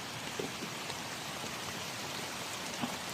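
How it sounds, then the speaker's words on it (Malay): Steady rain falls in a garden around a tree base infested with ants, a dense, even hiss of drops pattering on surfaces with a few louder splats. "Hujan pun turun alhamdulillah."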